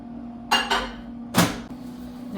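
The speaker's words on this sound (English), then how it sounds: "I'm gonna pop it in the microwave really quick." A microwave oven is used to heat food: a door clatters open and shut with a couple of knocks and a bang, and a low steady hum runs underneath.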